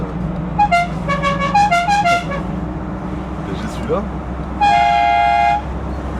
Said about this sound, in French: J'ai klaxon, tu sais.